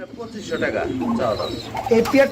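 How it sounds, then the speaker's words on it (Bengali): A pair of Kuka pigeons, red in front and almond-colored behind, coo back and forth at close range in soft, repeated throaty calls, mixed with a voice talking over them. "ডাকাডাকি করতেছে এক পেয়ার কুকা কবুতরের জোড়া"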